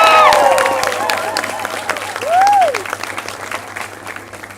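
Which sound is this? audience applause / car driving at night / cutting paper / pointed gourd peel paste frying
audience applause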